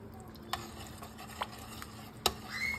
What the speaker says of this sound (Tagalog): So, kailangan lang talaga guys ay haluin ng haluin para hindi siya mamuo.